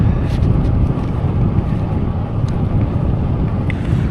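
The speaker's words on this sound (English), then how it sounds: "I slightly feel like the wind has turned" Strong wind gusts buffet the microphone during a bike ride along the Trent Valley Way riverbank, a loud, constant low rumble with small fluctuations and no talk throughout.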